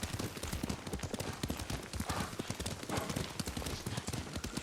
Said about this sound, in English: Lord Sakai taught me to ride a horse